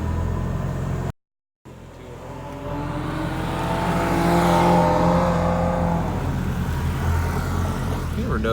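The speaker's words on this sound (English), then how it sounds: "Oh, look, there's a Porsche right there." A Porsche drives past on the road, its engine noise swelling to a peak and then fading over steady broadband traffic rumble, fairly close.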